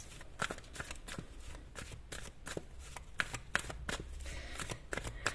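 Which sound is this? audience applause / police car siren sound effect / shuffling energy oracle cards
shuffling energy oracle cards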